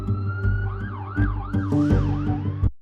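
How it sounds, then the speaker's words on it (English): An ambulance siren wails in repeated rising and falling sweeps over a low vehicle rumble, fairly close and continuous, then cuts off abruptly. "Jessica was rushed to the hospital by ambulance"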